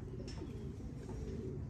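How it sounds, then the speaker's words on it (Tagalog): Racing pigeons arriving home at a loft during a Capistrano Classic long-distance race, giving soft, low cooing close by, steady and continuous with no talk over it. "so nagdadatingan yung mga ibon."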